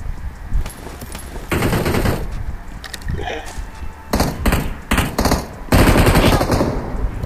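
Video game gunfire comes as loud, close bursts of rapid automatic fire separated by short gaps, with some voice chat mixed in.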